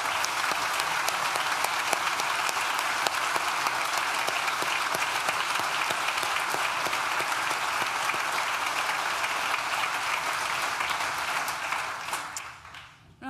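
Sustained audience applause fills a graduation ceremony hall, dense and steady clapping from many hands throughout before tapering off near the end.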